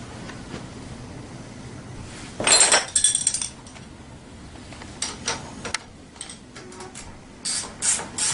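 Ratchet tightening a nut onto a Loctite-coated bolt during assembly of a Tao Tao 90 dirt bike: close, short bursts of rapid clicking separated by quieter pauses.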